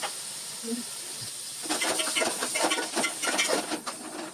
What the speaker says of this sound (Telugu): ఈ వంకాయ ముక్కలు కూడా అన్ని వైపులా మంచిగా వేయించుకోవాలి, తిప్పుకుంటూ ఉండాలి మధ్య మధ్యలో మాడకుండా.